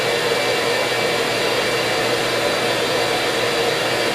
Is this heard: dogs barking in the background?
no